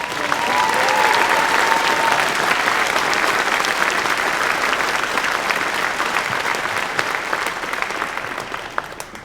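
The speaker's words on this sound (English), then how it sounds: "So can we give a round of applause?" Sustained audience applause at a law school ceremony, a dense steady wash of many hands clapping that holds strong throughout and tapers slightly near the end.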